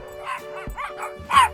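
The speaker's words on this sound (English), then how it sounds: "Thinking that barking, it's great" A dog barks outdoors in a handful of short, sharp yips and bow-wows spread over a second and a half, fairly close and moderately loud, with a faint steady hum underneath.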